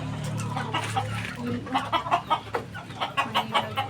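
Chickens cluck in short repeated bursts, growing busier and more rhythmic toward the end, with a faint low rumble of background noise.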